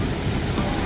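Mountain stream water in Ssangryong valley, coming down from Simwonsa temple in high volume, rushes in a dense, steady roar close by.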